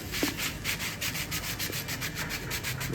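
Rhythmic rubbing and scraping repeats steadily up close, like a sifter being shaken or tapped to dust powdered sugar over donuts, with no voices.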